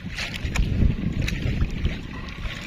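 Strong sea waves slosh and slap against a small fishing boat out at sea during net fishing, a continuous rough wash of water with wind noise and no talk.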